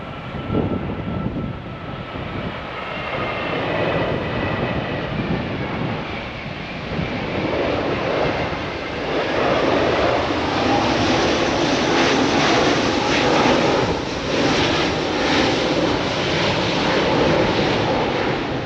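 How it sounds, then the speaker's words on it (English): A fixed-wing airplane aborts its landing over the Easter Island runway, a loud, steady engine roar that builds and holds close overhead, mixed with wind and surf-like outdoor noise. "They just aborted their landing there for whatever reason."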